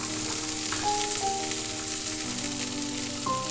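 Chopped beans and carrots fry in hot oil, a dense continuous sizzle with a few faint clinks, steady and close throughout.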